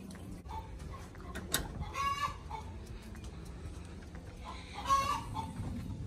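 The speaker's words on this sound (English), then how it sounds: "And if you think that chickens are not loud, think again." Chickens in a backyard pen cluck and squawk in scattered bursts over steady low outdoor noise, with a couple of louder calls standing out above the background.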